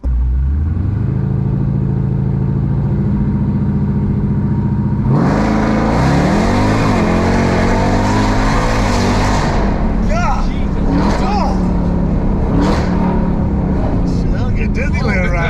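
A 1,000 hp drift car's engine holds a steady drone, then surges into loud high revving with sharp rising and falling pitch sweeps while drifting, close and dominant, with voices and shouting over it.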